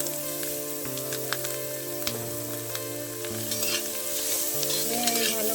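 Grated carrot and beetroot sizzle in a pan with fried coconut as they are stirred, a steady frying hiss under soft music.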